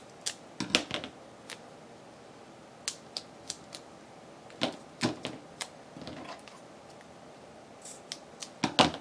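Scissors snipping through a paper Christmas ornament image to cut it in half during a craft session: a scattered series of short, crisp clicks and snips, close and fairly quiet, with no talking.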